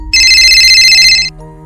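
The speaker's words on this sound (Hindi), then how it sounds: "तभी अचानक बजे फोन की घंटी ने उसका दिल लगभग रोक सा दिया" A telephone rings with a bright, repeated electronic trill that starts abruptly, holds steady for about a second, then cuts off, leaving a low hum. It is loud and close, with nobody speaking.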